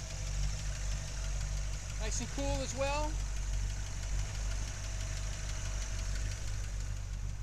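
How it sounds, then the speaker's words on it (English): A 1959 Chevrolet Impala with dual exhaust idles in a low, even, quiet rumble throughout, while someone speaks briefly over it. "Runs nice and smooth."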